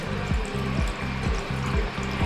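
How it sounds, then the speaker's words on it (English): Tap water rinses a K&N air filter after soap cleaning, a steady splashing rush with rhythmic low pulsing, close and fairly loud, no talking. "So now we'll just rinse it with normal water"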